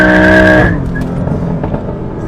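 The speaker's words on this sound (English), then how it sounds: "That was kind of a weak sauce burnout" BMW M2 doing a short burnout: a loud, high tire squeal with engine roar for under a second, then cutting off into lower rumbling engine and tire noise.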